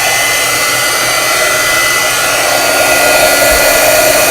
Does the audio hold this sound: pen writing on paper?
no